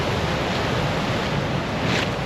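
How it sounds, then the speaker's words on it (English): Steady roar of ocean surf on the Pacific coast in Baja California, a continuous wash of breaking waves with some wind rumble, fairly loud and unbroken, with no voices. "We're on the Pacific Ocean right now."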